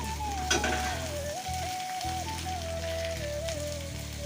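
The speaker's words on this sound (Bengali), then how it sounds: "পেঁয়াজটা লাল হয়ে গেছে এখন আমি দিয়ে দেবো কেটে রাখা আলু" Cut potatoes go into a pan of oil with onions fried red, slit green chili and cumin, giving a steady, close sizzle that continues throughout over soft background music.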